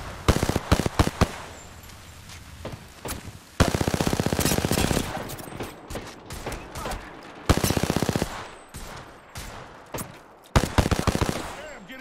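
Rapid automatic gunfire in an online shooter video game comes in loud repeated bursts separated by short pauses, and a voice speaks briefly in between.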